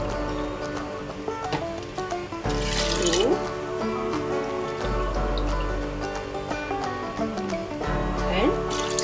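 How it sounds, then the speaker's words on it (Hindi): About 300 ml of water is poured from a bowl into a pot of North Indian bottle gourd dal, trickling and splashing softly beneath background music and someone speaking. "लगभग 300 ml पानी इसमें ऐड किया है"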